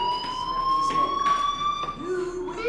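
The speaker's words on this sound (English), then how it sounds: "Hey, do you hear that fire alarm?" A fire alarm ringing inside the video game Life Is Strange, a steady electronic tone with bright harmonics holding throughout at moderate level, with brief voice-like sounds faintly underneath.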